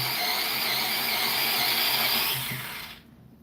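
An electric pencil sharpener grinds a pencil in one continuous loud whirring burst of about three seconds, close by, then cuts off abruptly into near silence.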